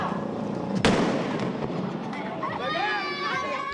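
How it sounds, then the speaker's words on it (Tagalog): Firecrackers set off in Moriones Street, Tondo, Manila, for Christmas: one sharp loud bang followed by scattered crackling pops, with excited shouting voices and street commotion throughout. "Kaliwat kanang paputok ang sinindihan nila sa kalsada para salubungin ng Pasko."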